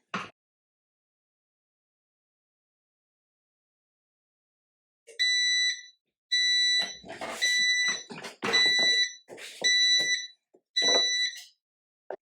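A Silhouette craft cutting machine gives a series of loud, high electronic beeps in short repeated bursts when finished, after a few seconds of silence, with faint clatter between them.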